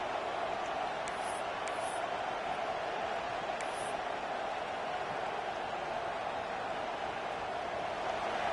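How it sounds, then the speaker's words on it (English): A dense, steady roar from a large college football stadium crowd, loud and unbroken throughout, with no distinct voices standing out. "listen to this crowd noise. This stadium is vibrating."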